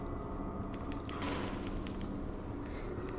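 Gunfire in Resident Evil 1, a dense run of game gunshots over a steady wash of background game sound, with a brief louder burst in the middle and no talk.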